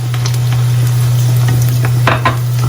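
Papad frying in hot oil, a dense, loud crackling sizzle close by with a few sharper pops near the end over a steady low hum, and no talking.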